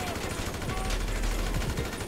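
Gunfire in the video game GTA 5 Online, a run of rapid shots layered over a busy, noisy in-game soundscape.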